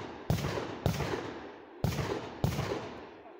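Umarex HDR 50 self-defense revolver fired outdoors at about 20 metres, four sharp reports spaced unevenly over a few seconds, each a loud crack trailing into a short rumble.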